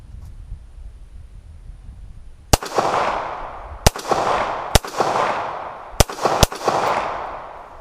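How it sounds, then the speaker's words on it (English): Five sharp, loud handgun shots from a Star BM 9mm pistol fired downrange outdoors, spaced irregularly over a few seconds, each with a ringing echo tail. "So I have this excuse to shoot these downrange and record it now."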